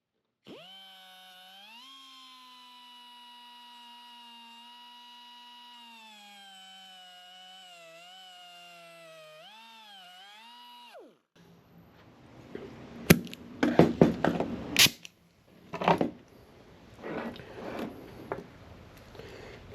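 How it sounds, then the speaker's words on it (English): A cutoff wheel slices through a stainless steel braided oil line for a Sonex aircraft, starting as a steady high whine for about ten seconds, then giving way to harsh, irregular grinding bursts and clatter near the mic. "I'm going to use a cutoff wheel to cut this, and we'll just cut it right in the middle of this tape line."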